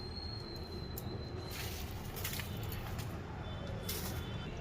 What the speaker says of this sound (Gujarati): આપણે મિક્સરના જારમાં લઈ લઈએ અને પીસી નાખશું